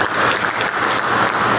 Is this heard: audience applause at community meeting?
yes